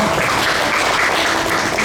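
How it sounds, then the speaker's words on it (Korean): A church congregation at a Friday worship service applauds, a dense, loud, continuous burst of clapping filling the whole stretch. "우리 하나님께 영광의 박수 한번 보내드릴까요?"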